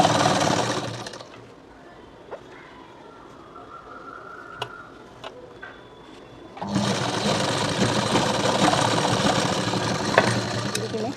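A sewing machine stitches a strip onto a small girl's blouse in two loud bursts of rapid running at the start and end, with a quieter pause between holding light clicks.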